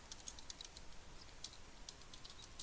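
Quiet, rapid tapping on a computer keyboard as a folder name is typed, soft clustered keystrokes over a steady hiss, no voice.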